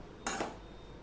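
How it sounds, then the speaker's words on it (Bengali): A utensil scrapes spices off the sides of a wok while fish curry with potatoes and pointed gourd cooks, giving one brief metallic scrape, close up. "দেখো কড়াইয়ের গায়ের থেকে সব মশলাগুলো নিয়ে"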